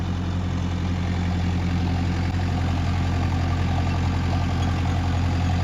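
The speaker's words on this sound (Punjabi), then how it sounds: "ਇਹ ਟਰੈਕਟਰ ਦੇਖੋ ਬਲੈਕ ਤੇ ਚੱਲਦਾ" A tractor engine idles steadily with a deep, even rumble, close and continuous throughout.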